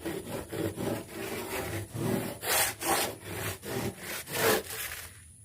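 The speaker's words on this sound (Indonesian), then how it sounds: "mencoba melakukan pengamplasan dengan ini ya" Hand-held sanding tool scrubbing a fiberglass resin speaker box in steady back-and-forth strokes, about a dozen rhythmic rasping passes, close and fairly loud with no talking.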